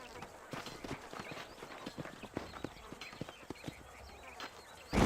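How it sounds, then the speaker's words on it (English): Horse hooves clip-clop in a steady walking rhythm in the Western video game Red Dead Redemption, quiet and somewhat distant, with a faint voice and a brief louder bump at the very end. "These are fine horses."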